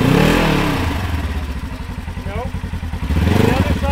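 An off-road vehicle's engine revs hard and chugs in rapid pulses as its tires spin in a sand trap, loud and close, with voices talking over it.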